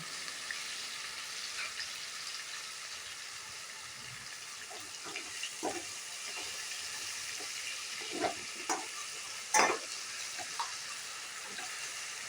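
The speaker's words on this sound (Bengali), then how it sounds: "সিম করে টমেটোটা একটু কষিয়ে নেব।" Tomato simmering and sautéing in a pan for a paneer dish makes a faint, steady sizzle with a few soft scrapes and clinks of stirring near the end.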